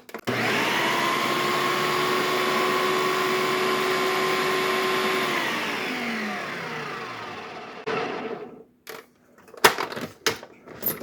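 A kitchen blender whirls homemade salsa for low-carb meal prep: a loud motor roar with crunching that winds down in pitch and stops, followed by a few clunks and knocks of the jar.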